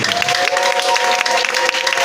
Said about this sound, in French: Est-ce que tu peux donner le son d'acclamation à ton Dieu?